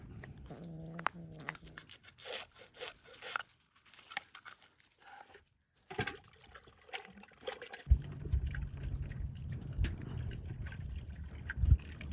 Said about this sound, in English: After cutting, we need to wash it from the blood that might stay inside.